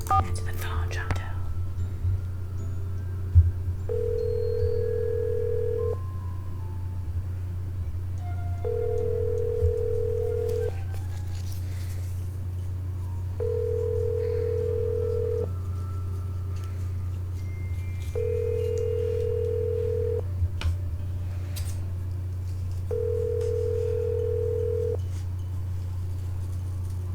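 An unanswered phone call rings back in regular repeating tones, about five evenly spaced beeps over a steady low hum, with faint murmuring in the background.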